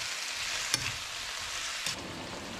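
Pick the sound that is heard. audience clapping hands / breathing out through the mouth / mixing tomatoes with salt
mixing tomatoes with salt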